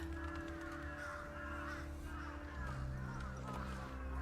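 Crows caw repeatedly in Final Fantasy XVI, a steady run of calls sitting over a dense bed of sustained game music and ambience with no talk.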